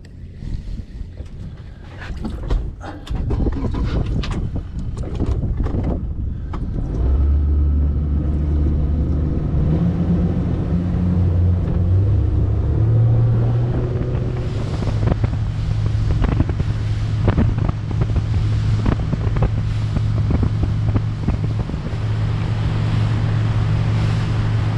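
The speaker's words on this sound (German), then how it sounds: "Das war's, das Gewitter ist da." Gusty wind buffets the microphone over open water as a thunderstorm arrives during a flounder-fishing trip on the Baltic, with waves lapping and a steady low engine drone starting partway through, continuous and fairly loud.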